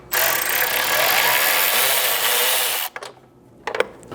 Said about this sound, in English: with your 7mm socket, you've got 2 screws up top here that we'll first remove